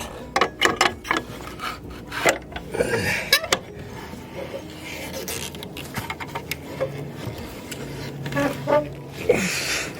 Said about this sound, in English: Then jack up.